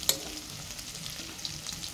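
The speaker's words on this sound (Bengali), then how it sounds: "এবার আমি চিংড়ি মাছগুলোকে দিয়ে দেব।" Prawns frying in hot oil in a pan, a continuous crackling sizzle with scattered pops and a sharp clink at the start, moderately quiet and without talk.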